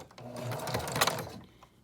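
A sewing machine zigzag-stitches over a fold line on a fabric cat ruff collar, a short, close, rapid mechanical whirring burst that rises and then winds down.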